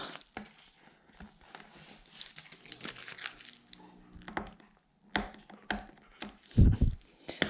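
Stickers peeled from a new Puig windscreen on a Honda CBR650F, giving close, irregular crinkling and tearing rustles with louder ripping bursts near the end and no talk.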